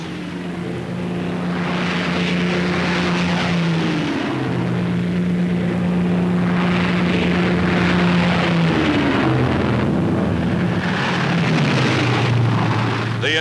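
C-47 transport planes taking off near dusk at the start of the D-Day invasion, Normandy, June 1944: a loud, steady propeller-engine drone with shifting pitch, several aircraft overlapping and rising and falling across the whole stretch.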